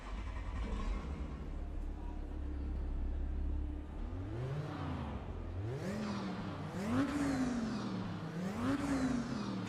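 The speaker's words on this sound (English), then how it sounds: "Okay, there's that 5-cylinder noise we know." A five-cylinder race car in the RaceRoom racing game idles with a low hum, then revs repeatedly in rising and falling sweeps that climb higher with each blip, fairly loud and close.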